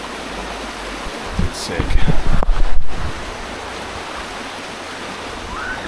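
A river rushes past riverside food tables in Thailand as a steady, loud broadband wash, with a brief burst of movement and a short spoken remark near the middle.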